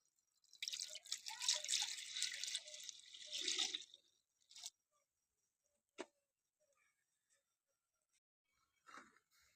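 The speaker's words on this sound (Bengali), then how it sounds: "আমি এখানে এক কেজির মতো দুধ নিয়ে নিচ্ছি এবার এটা ঢেলে গরম করে নেবো" About a kilogram of milk pours steadily into a pan, a close splashing stream that lasts several seconds, followed by a few scattered drips and light clinks.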